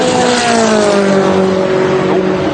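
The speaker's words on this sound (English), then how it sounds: "It's always spine-tinglingly good to listen to the cars going around the track for the first time." Porsche race cars at night qualifying roar loudly past on the track, one engine note sweeping down in pitch as it passes close by, with continuous engine noise throughout.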